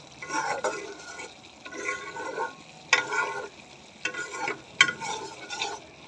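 A spoon scrapes and stirs a sizzling paste of yogurt and nut paste frying in oil in a pan for stuffed pointed gourd. It comes in close, rhythmic bursts with soft crackling between strokes.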